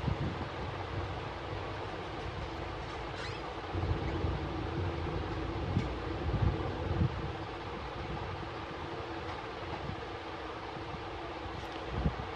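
An Asus laptop powering on with its cooling fan running, a low, steady whirring hum with faint rustle and a few soft clicks, quiet and continuous throughout.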